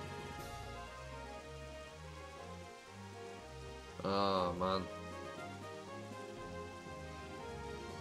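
Rain falling during a Pokémon Stadium 2 battle, a soft steady hiss beneath looping game music, with a brief creature cry midway and a short spoken exclamation.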